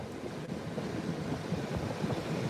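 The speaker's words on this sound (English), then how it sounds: "We don't get real big waves here, but that's pretty good size for us right there." Gentle ocean surf rolling onto the beach at Padre Island, Texas, a steady low wash of modest waves with wind rumbling against the microphone throughout, no voices.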